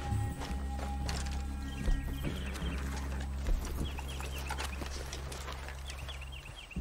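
Horse hooves clip-clopping in the Red Dead Redemption 2 video game, a steady rhythmic walking beat over a low droning game soundtrack, with a few louder hoof strikes standing out.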